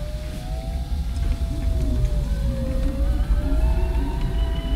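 A Tesla-powered electric Land Rover Defender 110 pulls away, giving a steady low rumble with a faint whining electric motor tone that slowly rises and dips, continuous and close.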